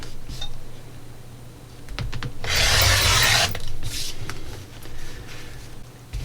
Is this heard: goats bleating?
no